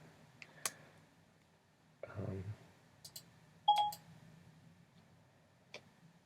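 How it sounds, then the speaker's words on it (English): A mobile phone sounds off on its own in a quiet room, giving sparse clicks, short ticks and a brief tone beep spread out over a few seconds, with low background noise. "I'm not sure why my phone is talking."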